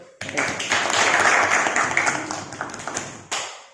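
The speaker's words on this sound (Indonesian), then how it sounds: "Aplaus dulu." Classroom applause from a group of high school students, a dense, steady burst of clapping that starts abruptly, holds for about three seconds and trails off, with voices chattering underneath.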